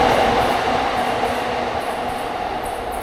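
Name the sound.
train at Ikebukuro Station, Tokyo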